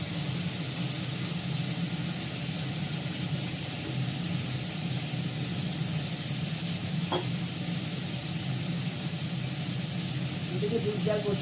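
A pan of Bengali fish curry sizzles steadily as it is stirred, a constant hiss holding at moderate level with a faint clink near the end.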